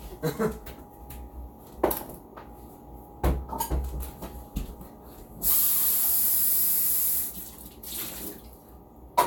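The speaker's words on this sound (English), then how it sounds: "The cooking spray comes in real handy." Cooking spray hissing from a can in a home kitchen while cinnamon-sugar roasted cashews are prepared, a steady spray of several seconds set among scattered clatter of kitchen items.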